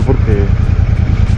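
A Royal Enfield Shotgun 650 motorcycle runs in slow city traffic in Colombia, its twin-cylinder engine thumping in a steady, rapid low pulse close by while a rider speaks over it.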